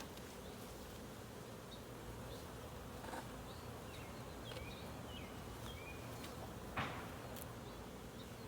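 Many honeybees hum in a dense, continuous buzz close by during a hive inspection, with a few louder individual passes and faint bird chirps.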